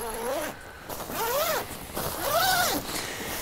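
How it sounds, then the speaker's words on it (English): The zipper of a Western Mountaineering Bison expedition sleeping bag is pulled in three separate strokes, each a rising and falling rasp, close and clear with brief pauses between. "But you'll see the zipper operate here."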